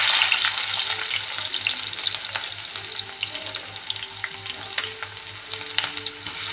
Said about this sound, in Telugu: టమాటా ఆనియన్స్ వేసేస్తున్నాను.